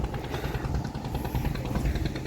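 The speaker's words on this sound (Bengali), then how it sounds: "এই সাইডে দেখো এই ফটোটি যাচ্ছে মাছ ধরা নৌকাটা যাচ্ছে সাইড থেকে" A fishing boat passing along a river, its engine droning steadily and fairly loud at a continuous putter, with no talk over it.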